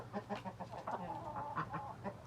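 Mixed-breed village chickens in a rural Turkish yard cluck and chatter close by in a steady, overlapping stream of short calls, with no talking.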